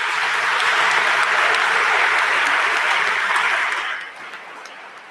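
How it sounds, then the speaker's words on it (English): An audience at a management institute event gives a big round of applause for a panel, a dense, loud wash of clapping that holds steady and then thins out near the end. "please give them a big round of applause"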